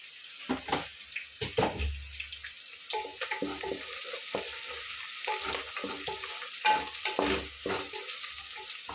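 Green chillies and curry leaves frying in oil for a mutton curry, a steady sizzle with repeated stirring scrapes and clinks close up, no voices.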